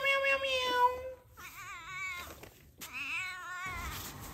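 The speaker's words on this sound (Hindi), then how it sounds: "देखो गाड़ी का मैट में अभी बिल्ली सो रहा है" A cat meows several times in drawn-out, wavering calls, close and fairly clear, in a quiet setting where it had been sleeping on a car floor mat.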